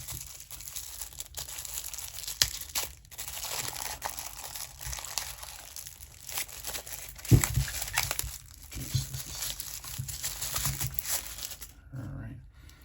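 Plastic packaging from an unboxed EUFY S220 2K SoloCam solar security camera crinkles and rustles close by in irregular bursts, with one sharper crackle partway through, before falling quiet at the end.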